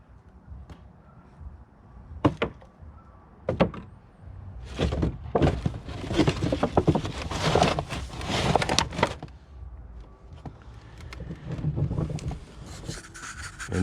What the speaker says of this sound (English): And now I shut the door